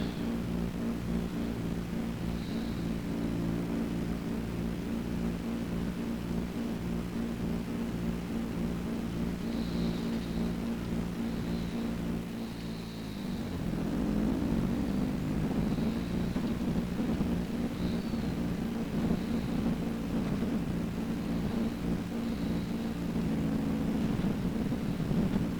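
A Landini tractor engine in Farming Simulator 22, working a corn harvest on a Western Australia map. It gives a steady, droning hum that dips briefly midway and then resumes a little louder and rougher.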